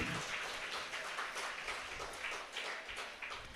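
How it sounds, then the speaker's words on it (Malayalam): A congregation at a retreat centre applauds, a dense, even wash of many hands clapping together, fairly faint and distant, sustained for a few seconds without speech. "നല്ലൊരു കൈയടി നമ്മുടെ കർത്താവിനോട്."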